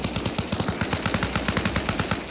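Rapid automatic gunfire in the video game Arma Reforger rattles steadily in a continuous burst, loud and close, with game-like combat sounds and no talking.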